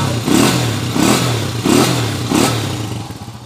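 Repaired motorcycle engine with a fixed oil leak and connecting rod, idling close by with a smooth, regular pulsing throb, four even surges across a few seconds before easing down.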